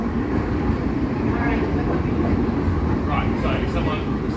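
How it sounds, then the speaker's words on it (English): A suburban train to Cranbourne pulls out of Flinders Street Station in Melbourne, a steady, loud low rumble of wheels and motors with faint higher squeals toward the end. "Train now departing."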